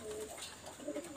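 A KTM pigeon pair coos softly, a few faint, low murmuring calls close by in a quiet space.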